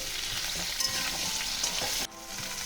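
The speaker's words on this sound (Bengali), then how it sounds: "এবার আমি আলু আর সজনের ডাঁটা একসাথে করে কিছুক্ষণ ভেজে নেব" Potatoes and drumsticks (moringa pods) fry in a pan with a dense, steady sizzle, punctuated by light stirring scrapes, with no voices.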